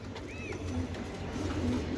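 A racing pigeon coos softly and low, a couple of murmuring calls over a steady background hum, nearby in a loft.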